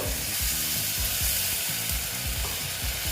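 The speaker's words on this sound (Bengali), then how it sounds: "এবার আমি একটু জল দিয়ে দিচ্ছি জলটা আমি বেশি দেবো না" Ash gourd curry sizzles loudly in a pan after a little water is poured in, a dense hiss with a repeated low rhythmic rattle of stirring, close up and continuous.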